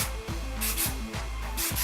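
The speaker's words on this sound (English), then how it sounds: "I'm going to take my hairspray and spray it again." Hairspray hisses from an aerosol can onto hair in several short, close bursts, with brief pauses between sprays and no talking.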